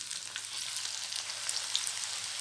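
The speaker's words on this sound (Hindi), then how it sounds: "ये देखिए इसको हम इसमें डिप करेंगे अच्छी तरीके से और इसको आप फ्राइंग के लिए डाल देंगे।" Potato bread patties dipped in batter fry in hot oil, giving a dense, even sizzle and crackle that holds steady throughout with no talking.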